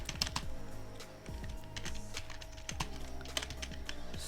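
Someone types quickly on a computer keyboard while setting up an FTP server in Windows, making dense close clicks in irregular bursts over a low hum, with no talk.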